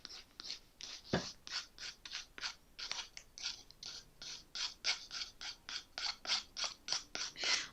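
Nail file scraping downward along the edge of a fingernail in quick, repeated short strokes, about two or three per second, close and crisp with a dry rasping texture.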